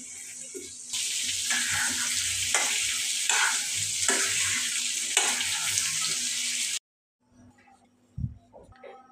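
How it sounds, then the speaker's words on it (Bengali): Potatoes frying with salt and turmeric in a home kitchen give a loud, steady sizzle with repeated stirring scrapes. Near the end it cuts off, and soft kitchen clatter follows. "এদিকে আমি আলুটা ভেজে নিব।"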